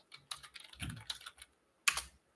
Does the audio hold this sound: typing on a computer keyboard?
yes